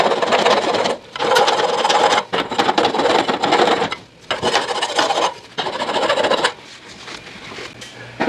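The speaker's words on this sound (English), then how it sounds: "go back to your sandpaper, clean up these burrs" Sandpaper scrubs burrs off the steel shaft of a garage door spring assembly, a close, loud rasping in quick back-and-forth strokes broken by brief pauses.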